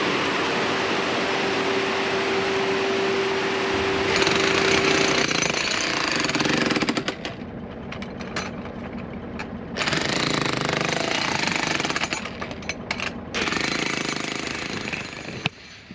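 Kango hammer breaking ground for foundations, a loud, continuous rattling hammering that runs close for several seconds, stops briefly, then resumes in bursts with short pauses between them.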